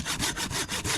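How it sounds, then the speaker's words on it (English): A saw cuts through a damp firewood log in wet, rainy weather, making quick, even back-and-forth rasping strokes, about five in a second, close and loud with no voices. "You just got this one sawed through."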